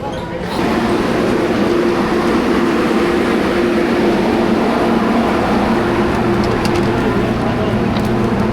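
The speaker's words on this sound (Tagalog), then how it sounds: "Ayan na agad yung train." A train pulls into a Hong Kong station with a steady, loud rumble and hum that continues throughout. Faint station noise and a few sharp clicks come near the end.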